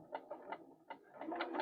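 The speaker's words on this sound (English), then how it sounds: "I'm just going to start sewing" A sewing machine stitches a handmade stocking in quick, short mechanical bursts. The clicking runs are close and fairly quiet, with a brief pause in the middle and no talk.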